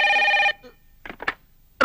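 A telephone in a Telugu film scene rings in one loud electronic burst. Brief soft sounds follow, then a second loud burst starts at the very end.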